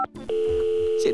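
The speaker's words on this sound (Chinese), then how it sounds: "接电话接电话呀" A telephone rings in an animated cartoon: one steady electronic ring tone held for just under a second, close and clear, with voices around it.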